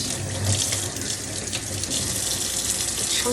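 Tap water runs steadily into a kitchen sink while brined chicken is rinsed under it, giving a continuous close splashing hiss with no talk.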